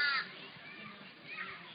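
Birds calling in a park beside a river in Australia, a couple of harsh crow-like caws at the start and near the end over steady outdoor ambience.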